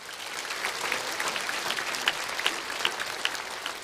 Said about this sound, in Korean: 하나님께 영광의 박수 하시겠습니다